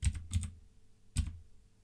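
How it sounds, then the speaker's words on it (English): Close, crisp keystrokes on a computer keyboard: a quick cluster of clicks, a pause, then another tap, sharp and dry with no voices. "press the Windows key and R on our keyboard and type out"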